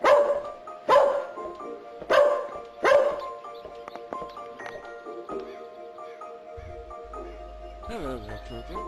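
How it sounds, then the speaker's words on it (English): A dog barks sharply four times in quick succession, close and loud, before quieter yips and muffled voices continue in the background. "Stop barking at them."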